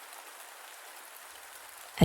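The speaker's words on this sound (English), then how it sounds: "as the gentle sound of the soft rain starts to fall" Soft, gentle rain falls as a faint, steady hiss with light patter throughout, quiet and even, ending in a brief louder tap or thump at the very end.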